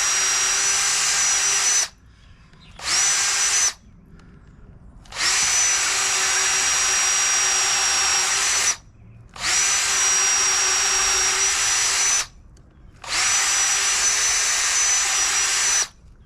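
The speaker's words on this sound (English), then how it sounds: "drill to there, and if it slows down too much, just bring it up. You'll pull out all the chips." A power drill bores into wood for a wooden body cart in a workshop, running in several loud whining bursts of a few seconds each, separated by brief pauses as the bit is pulled up to clear chips.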